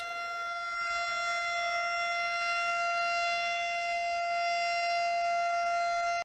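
A steady motor-driven civil defense siren with a 12-port chopper wails at a constant pitch, a sustained tonal howl with strong harmonics, loud and unbroken throughout.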